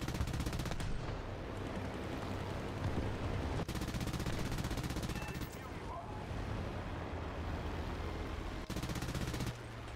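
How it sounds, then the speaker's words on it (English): Aircraft machine guns strafing in a video game, a loud continuous rattling stream of rapid fire that runs nearly unbroken for ten seconds, with brief cut-offs and dense rumbling underneath. "look at this poor Swedish dude with his big strafing machine guns"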